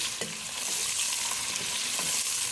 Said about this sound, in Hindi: मैंने 1 कप ऑयल ली है, उसमें हम अपने प्याज शामिल करेंगे। 3 अदद प्याज है, इसको हल्का सा ब्राउन करेंगे।